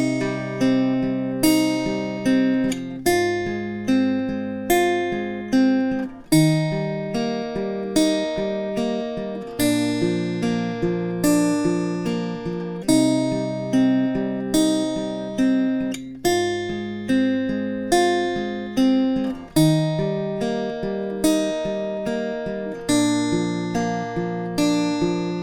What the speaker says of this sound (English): And the full picking riff in total will sound like this.